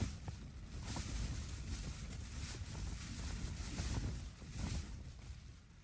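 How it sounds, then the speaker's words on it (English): Strong gusting wind at a windy camp on the Scottish border, buffeting and battering tents; a steady loud roar of wind noise with surging gusts, no voices. "The wind's on and off, getting the good strong gust coming through, battering the tents"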